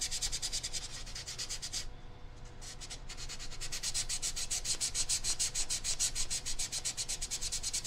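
Sandpaper rubs steadily over a cave art sculpture, making fast rhythmic back-and-forth scratching strokes up close, with one short pause before the scraping picks up again.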